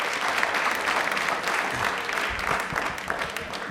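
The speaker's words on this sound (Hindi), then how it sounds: "बट तालियां अपने लिए प्लीज एक बार जोरदार हो जाएं" Studio audience clapping on a televised quiz show, a full, continuous round of applause from a crowd nearby that holds steady for the whole stretch.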